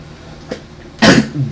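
A single loud sneeze bursts out close by after a faint earlier catch of breath, then quiet.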